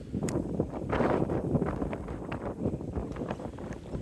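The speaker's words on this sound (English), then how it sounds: "The wind is coming hard off the right" Strong gusts of wind buffet the microphone on a golf course, a rough, rumbling roar that swells and fades unevenly with brief rustling bursts.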